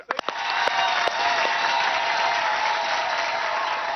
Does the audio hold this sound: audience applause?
yes